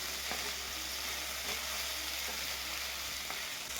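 Chopped ivy gourd pieces frying in hot oil in a pan, a steady close sizzle with a few soft stirring scrapes over a low hum.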